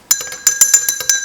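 A spoon stirs a detox drink of water and apple cider vinegar in a glass, ringing with about eight quick bright clinks in an uneven rhythm, close and loud.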